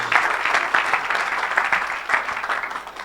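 A crowd at an evangelistic church meeting applauds steadily for about three seconds, a dense, continuous clatter of many hands with slight surges, fairly close and loud.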